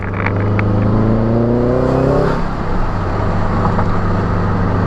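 Subaru fitted with a Perrin turbo inlet accelerating away, engine note climbing steadily through a gear before dropping at the shift into a rougher rushing drone, loud and close from inside the car.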